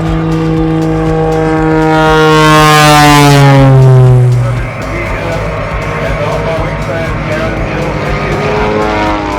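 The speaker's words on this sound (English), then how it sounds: "All different types of aircraft." A propeller aircraft roars past loudly at the Polokwane Airshow 2024, its droning pitch sliding downward as it passes, then fading into a lower rumble and background noise.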